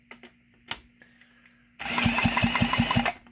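McCulloch Model 73 "Hot Rod" chainsaw engine catching on a starting attempt, a loud, rough, rapid-firing run of about a second and a half that follows a few faint clicks and pulls.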